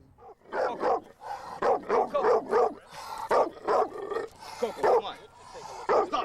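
A dog barks repeatedly and close by at a senior center, giving a rapid series of loud barks and yips while a person talks over it.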